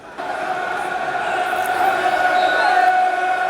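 Football crowd at a Millwall versus Coventry City match, a steady, loud stadium roar that swells slightly as an attacking play develops, with no clear voices standing out.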